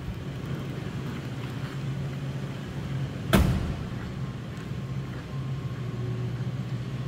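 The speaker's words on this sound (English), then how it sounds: "And sounds as it should. Nice, quiet running Lincoln." A 1997 Lincoln Town Car Executive Series idles quietly with a low hum, interrupted midway by a single sharp knock or click.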